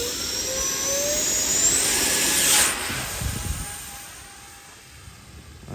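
A 3D-printed PLA Viggen RC jet with a 50mm electric ducted fan flies outdoors in winter, whining loud and high as it passes close, then fading into a softer whine as it moves off.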